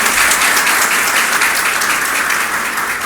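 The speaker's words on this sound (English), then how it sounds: "I love the applause" An audience claps steadily at a birthday celebration honouring a chairman, a loud, dense wash of applause with no break from start to finish.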